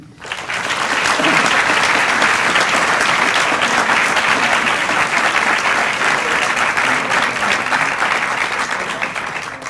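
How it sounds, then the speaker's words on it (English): An audience claps after a Thanksgiving address, a dense, sustained burst of many hands that swells in quickly, holds loud and even for several seconds, then begins to thin near the end. "You deserve an applause for each and every one of your own destinies."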